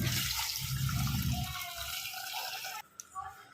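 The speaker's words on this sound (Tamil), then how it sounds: "இப்போது தேவையான அளவு தண்ணி ஊற்றிக்கோங்க." Water poured into a cooking pot during biryani preparation, a rushing, splashing pour that fades out after a couple of seconds, leaving quieter kitchen sounds.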